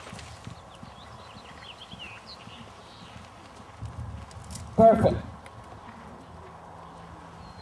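Horse hoofbeats clip-clop intermittently in the background while a person talks nearby at a riding clinic, with a brief louder burst of sound partway through.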